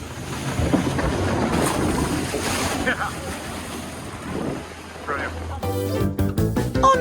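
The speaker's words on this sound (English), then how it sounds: "And then it's time for a little splash." A log flume boat at Blackpool Pleasure Beach rushing through water, a continuous noisy wash of splashing and wind that ends in a sharp cut to other sounds.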